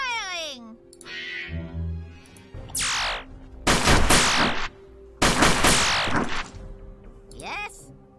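Gunfire in the tactical video game UFO: Afterlight, with several loud bursts of shots and sweeping weapon effects separated by quieter game sounds and short unit voice responses.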